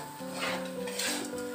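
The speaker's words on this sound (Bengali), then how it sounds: "ভালো করে আমি নাড়াচাড়া করে নিচ্ছি উচ্ছে আলুটাকে" Bitter gourd and potatoes being stir-fried and stirred in a pan, a steady sizzle with scraping spatula strokes against the metal, close and continuous with background music underneath.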